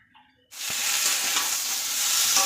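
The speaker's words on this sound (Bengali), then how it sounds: "আলুগুলো একটু ভেজে নিচ্ছি" A sudden loud sizzle bursts in and holds steady, the hiss of potatoes frying close up, with scraping from stirring in the pan.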